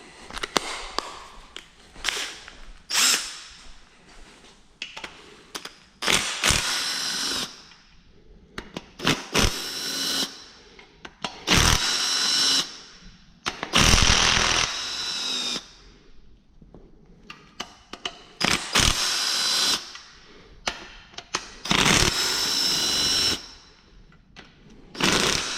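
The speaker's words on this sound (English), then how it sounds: "We're gonna speed this up because this ratchet takes too long." Power ratchet spinning bolts loose during a teardown of a 6.0 LS V8 engine, in repeated loud bursts of whirring and rattling with short pauses between, up close and without talk.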